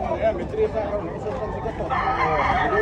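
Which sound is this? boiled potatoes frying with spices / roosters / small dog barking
roosters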